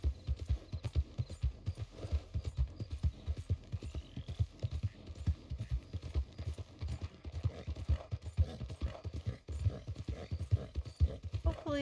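Horse hooves clip-clop steadily in the video game Red Dead Redemption, a continuous, evenly paced trot of soft thuds that runs throughout with no voices.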